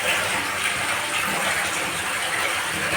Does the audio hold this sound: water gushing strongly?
yes